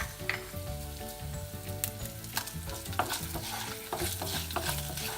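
Spices and broken red chilies roasting in a pan, with a continuous crackling sizzle and frequent scraping stirs in an uneven rhythm, close and clear with no voices.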